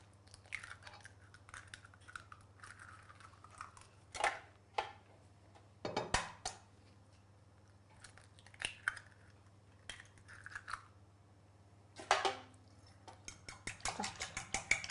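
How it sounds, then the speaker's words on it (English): Two eggs being beaten in a bowl with a fork or whisk for brown bread, giving irregular clattering bursts of utensil against bowl over a low steady hum, close and moderately loud, with pauses between strokes. "Just beat up the eggs"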